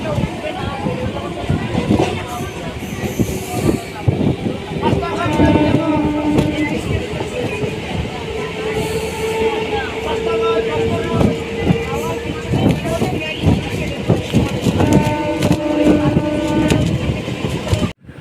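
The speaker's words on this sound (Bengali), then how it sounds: "আমি এই যে ট্রেন ধরে এখন বাড়ি আসছি" Rumbling ride inside a local passenger train, steady rolling noise with faint rail clatter and sloshing throughout, no break in the din.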